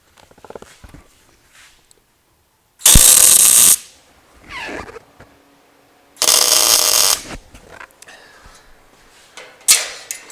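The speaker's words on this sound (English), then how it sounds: "tack weld the 2 inside corners, and then move on to your next piece, tack weld your 2 inside corners, and so on all the way around." Tack welding a steel headache rack frame: two short, loud bursts of welding arc crackle about a second each, separated by quiet handling and clanking noises, with another brief burst at the end.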